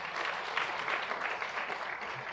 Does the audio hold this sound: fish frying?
no